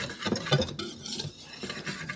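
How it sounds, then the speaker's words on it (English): A whisk scraping and clinking quickly through baking soda and other dry ingredients in a bowl for pumpkin pie cupcakes, a close, steady run of soft rasping strokes with light metallic taps. "And then we will just quickly whisk that together just to distribute it."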